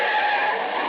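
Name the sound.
car swerving toward pedestrians, skidding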